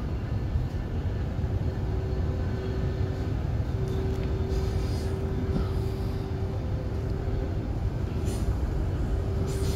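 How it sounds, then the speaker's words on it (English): A Brisbane City and Redcliffe Peninsula commuter train runs express, giving a steady, loud rumble of wheels and motors with a sustained high whine that holds nearly throughout. "This is a Brisbane City and Redcliffe Peninsula train running express from Bowen Hills to Northgate"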